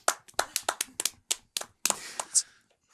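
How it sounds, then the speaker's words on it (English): Hands clap in an uneven burst of about a dozen sharp, close claps, quickening then trailing off with a brief bright tone near the end, set in a casual podcast studio. "Yeah, we got clapping going on here."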